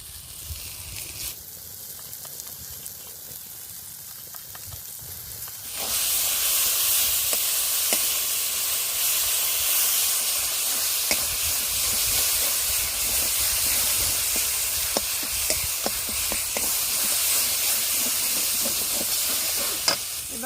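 Dried chili paste hits hot oil in a village-style pan while potol and prawns cook, bursting into a loud, sustained sizzle and hiss that continues steadily with occasional crackles after a quieter opening.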